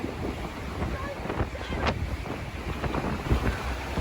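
Strong wind buffets the microphone on the Golden Gate Bridge in San Francisco, a loud continuous roar with gusty rumbling and no speech heard.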